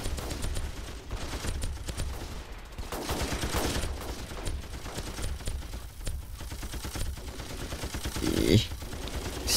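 Dense, continuous gunfire in the battle game Ravenfield against an invading horde of bugs, bursts of automatic shots overlapping at close range with a thick background din.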